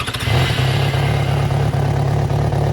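A 2009 Yamaha FZ6R four-cylinder motorcycle with holes drilled behind the exhaust rumbles loudly and close, with a quick rev at the start settling into a steady, throaty idle.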